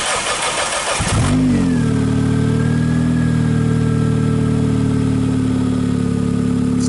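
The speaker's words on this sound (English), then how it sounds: "we'll just set you there and start the car so you can hear the motor" A car engine filled with gear oil instead of motor oil, driven about 1440 km, cranks and catches after a second of starter noise, then settles into a steady, smooth idle that runs loud and close until the end.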